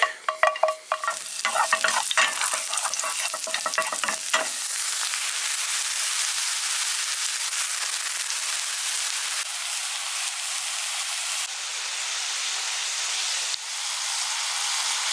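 Garlic and finely chopped mushrooms frying in sesame and olive oil, opening with a few stirring scrapes and clatters before a loud, steady, close hiss of sizzling fat carries on alone to the end.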